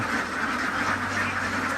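A flock of PP Super ducks, a tall, large breed, quacking loudly and continuously up close, a dense overlapping chorus with no pauses and no talking.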